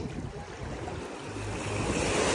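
Sea waves washing onto a sandy beach, a steady loud broadband rush of surf mixed with wind buffeting the microphone, swelling toward the end.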